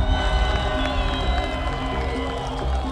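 Stadium crowd at a Portuguese football match cheering and applauding a retiring 35-year-old number 10 player, a dense, steady roar of clapping and voices filling the space throughout.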